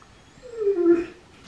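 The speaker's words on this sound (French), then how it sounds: "Le chien entend sa poulette, mais t'as faim." A dog whimpering: a single soft, rising-then-falling whine lasting under a second, faint and close, in an otherwise quiet room.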